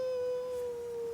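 A dog cries or howls outside in a single long, steady, drawn-out tone, faint and distant, with no talking over it.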